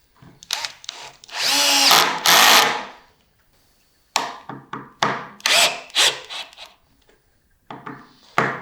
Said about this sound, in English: I use my cordless screwdriver, some normal screws which you have laying around.